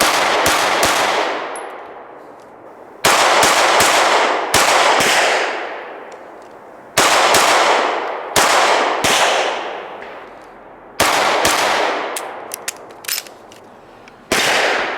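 Loud 9mm shots from an H&K P30L pistol with LEM trigger during a shooting drill, fired in several quick bursts of sharp cracks, each followed by a ringing decay, with no talk.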